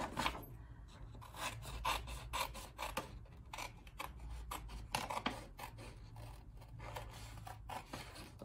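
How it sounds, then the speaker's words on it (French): Scissors cut out a paper motif for a Halloween craft, giving a rapid series of close, quiet snips and rasping paper rubs in an irregular rhythm, with no talk. "avec votre ciseau, il faut suivre le dessin"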